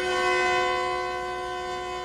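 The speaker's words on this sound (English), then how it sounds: "the train is ready to roar down the line at speeds well over 100 miles an hour" A high-speed train in eastern China running on rails at night, heard as a steady, sustained tonal drone with a smooth rolling rumble, loud and continuous throughout.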